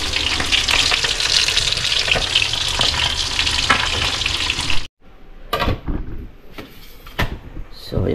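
Fish frying in a pan, a dense crackling sizzle filling the first five seconds, then cutting to quieter scattered clatter and bursts of sound.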